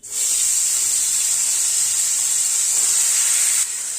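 Potatoes and bitter gourd go into hot oil with panch phoron for karela chorchori, setting off a sudden, loud, steady hiss of sizzling that holds evenly and then drops slightly just before the end.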